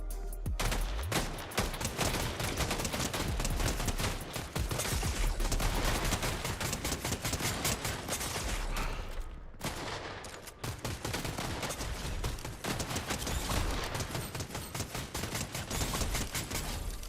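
Dense, continuous video game gunfire with rapid automatic bursts and clustered shots, loud and close, pausing briefly midway before resuming; no talking.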